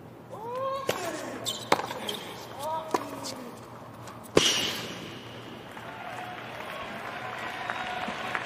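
Rapid footfalls of a tennis player sprinting for a drop shot on a US Open hard court in 2020, sharp slapping thuds amid ball impacts, squeaks and crowd noise, with a commentator talking over it.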